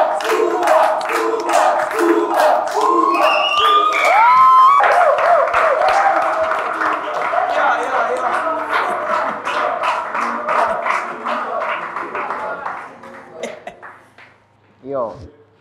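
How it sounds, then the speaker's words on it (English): A school talent-show audience claps in a quick steady rhythm and shouts and cheers loudly, with raised voices over the clapping for most of the stretch before it thins out near the end. "Please clap for him as he comes back."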